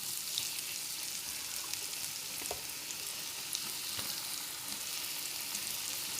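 Bitter gourd pieces deep-fry in hot oil with a dense, even crackling sizzle, close and continuous, with a few faint clicks.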